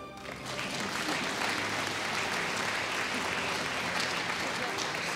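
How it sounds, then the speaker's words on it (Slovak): Loud, sustained applause from a large audience at the Slovenka roka 2012 televised gala, a continuous dense clapping that fills the whole stretch while a bouquet is presented to an honoree. "Ešte jeden veľký potlesk."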